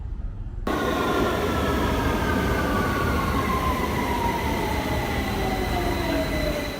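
A subway train at Green Park station rumbles steadily after a quiet opening, and long, high wheel squeals drift downward in pitch throughout.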